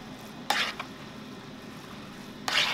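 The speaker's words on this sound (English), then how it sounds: "I'm gonna let Ashley stir that all together" Caramelized leeks stirred in a pan, two brief close scrapes of a spoon about two seconds apart over a soft sizzle, with no voices.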